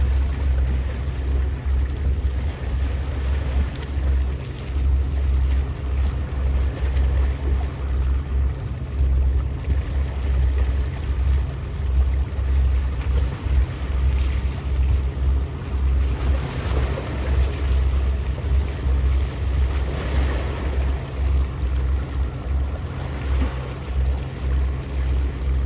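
A race boat at the Great Race in Trinidad and Tobago pulls away, its engine a continuous low drone blended with wind buffeting the microphone and the rush of water, loud and unbroken for the whole stretch with no speech.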